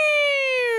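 A podcast's email-alert siren effect plays close and loud, its bright harmonic tone gliding slowly downward in pitch over a short stretch, with no talk over it.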